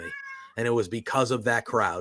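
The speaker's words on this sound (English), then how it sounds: "That is my cat." A pet cat meows loudly and close by in a quick string of several drawn-out, wavering cries, heard after a short stretch of someone talking.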